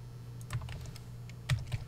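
Keys tapped on a computer keyboard in a few soft, irregular clicks over a steady low hum, quiet and close, with no talking.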